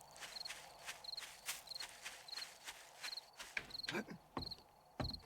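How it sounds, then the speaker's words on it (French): Crickets chirp in regular short bursts through a night scene in the game 7 Days to Die, with soft footstep-like clicks and rustles stepping in over the steady insect rhythm, no talk. "comme vous entendez les petits grillons comme ça veut dire que la nuit est là."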